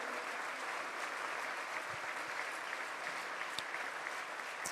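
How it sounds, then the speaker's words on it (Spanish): A church congregation applauds in a steady, even wash of clapping that holds throughout without pause. "Dale un aplauso al Señor."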